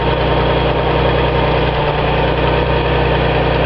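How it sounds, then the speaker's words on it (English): A Datsun 280Z engine idles with a vacuum leak, a loud, steady rumble with a constant hiss layered over it, close by and unchanging. "listen to the engine. Vacuum leak."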